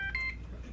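A phone that is malfunctioning gives out brief dialing beep tones, two or three short pulses in quick succession over a low background hum.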